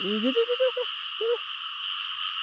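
A frog, caught while out hunting frogs in the wet, gives a few close, loud warbling croaks in quick succession, then one more after a pause, over a steady high insect drone.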